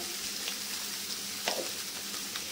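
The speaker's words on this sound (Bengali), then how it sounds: "ওই তেলের মধ্যেই সোয়াবিনগুলো ভেজে নেব" Boiled soybeans with turmeric, salt and chili powder fry in hot oil, giving a steady soft sizzle with small crackles and one brief louder spatter.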